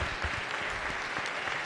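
A chamber audience in the state House in Annapolis applauds to welcome guests, with steady dense clapping throughout and no talk on top.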